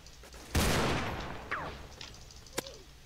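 A single sharp gunshot in a Roblox game rings out with a long echoing decay, followed a couple of seconds later by a second, fainter shot.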